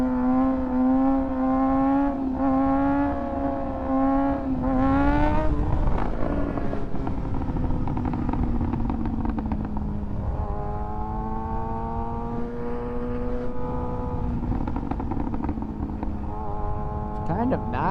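A 2024 Kawasaki ZX6R motorcycle engine climbs in pitch as it accelerates into a wheelie, then settles into a loud, steady, close-up drone that rises again near the end.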